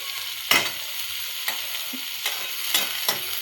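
Onion cooking in a pan, an even bright sizzle with several sharp spoon taps and scrapes spaced out over a few seconds, close and fairly quiet.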